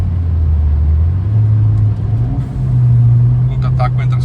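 Peugeot 208 GT with about 180,000 km accelerating hard, the engine note rising in pitch as it pulls through the revs, heard from inside the car.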